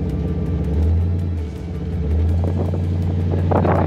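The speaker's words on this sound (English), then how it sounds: "He's driving a Roadster." A roadster car driving at low speed around a block, its engine a steady, close low rumble with light wind noise and a slight rise in revs near the end, with no talking.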